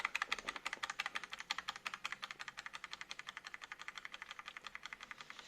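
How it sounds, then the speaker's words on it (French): Delete key on a PC keyboard hammered rapidly and hard at boot, a fast even stream of sharp plastic clicks, close and fairly quiet, with no voices. "je vais spammer la touche Supr en appuyant bien fort pour que vous compreniez que j'appuie"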